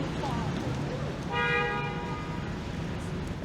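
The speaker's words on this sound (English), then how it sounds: "Definitely an increase in honking" A single car horn toots briefly amid steady Toronto city traffic noise, with faint voices in the background.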